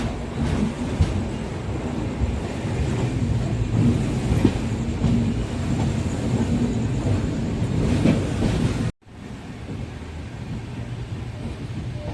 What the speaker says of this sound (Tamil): பக்கத்தில் ஒரு ட்ரெயின் போயிட்டுருக்கு